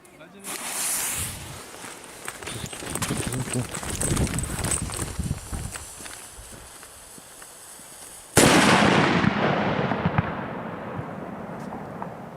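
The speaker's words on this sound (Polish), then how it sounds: "Petardka całkiem niezła, odpalamy, zobaczymy jak tutaj będzie echo" A firecracker bursts outdoors with a sharp loud crack, followed by a long rolling echo that trails off across open ground, with voices chatting before the blast.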